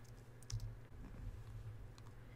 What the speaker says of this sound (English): Left click, right click,